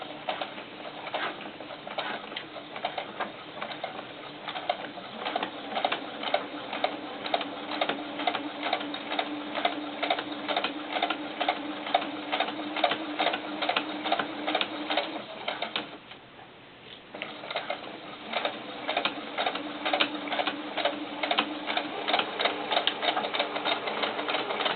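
A sewing machine stitches a quarter-inch seam on a doll beret, running as a steady rapid patter of needle strokes that stops briefly partway through and then resumes at the same pace.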